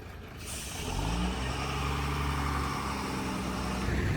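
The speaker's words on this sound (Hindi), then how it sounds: "अपने इंडिया साइड से ट्रक भर के जा रहे हैं और उस साइड से ट्रक खाली होके आ रहे हैं" Trucks rumble past at the India–Bangladesh border crossing near the Chicken's Neck corridor. A low diesel engine drones steadily close by, with a faint hiss at the start and no talk.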